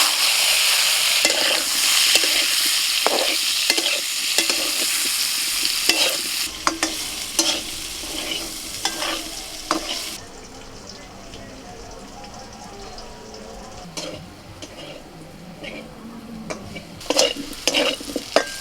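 Pieces of mankochu (giant taro) fry in hot oil that was just used for prawns, sizzling steadily up close while a utensil stirs and scrapes the pan in repeated bursts. The sizzle quietens partway through, leaving softer frying and occasional clatter.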